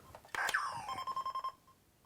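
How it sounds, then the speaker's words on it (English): Electronic beeps from Photon Worlds of Wonder Lazer Tag gear speed up into a rapid pulsing sequence, then fade, fairly quiet and close. "now the beeping gets faster, so now your enemies can really hunt you down."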